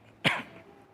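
A single short, sharp cough close up, a lingering illness cough that rises abruptly and fades within half a second against quiet surroundings.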